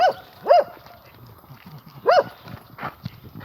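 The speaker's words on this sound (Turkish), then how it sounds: "Köpek." A dog barks a few times at a moderate distance in a village in Iğdır, Turkey, irregular single woofs separated by pauses, with faint shuffling and knocks in between.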